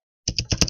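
A quick burst of four keystrokes on a computer keyboard while typing an internet search, crisp and close with no voices.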